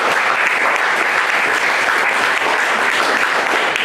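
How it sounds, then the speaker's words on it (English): Loud, sustained applause from the crowd at the Westchester County Regional Envirothon, steady dense clapping throughout with no break. "let's give them up another round of applause"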